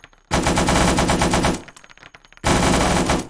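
Two loud, close machine gun bursts in the Arma 3 military shooter, each a rapid string of shots, the first about a second long and the second starting after a short pause, with no talk over them.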